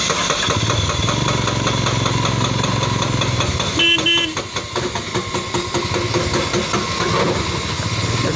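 A motorcycle engine idles with a steady mid-pitched throb on a mountain road in North Sikkim that a landslide has blocked. A brief horn toot sounds midway, and voices are faintly present.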